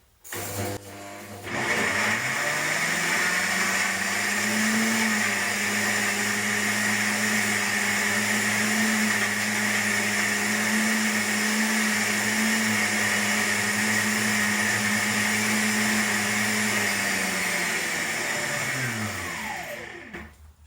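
Kitchen blender whirs steadily at high speed, blending bread and other ingredients for salmorejo, one continuous loud motor drone that spins up, holds for about twenty seconds, then winds down.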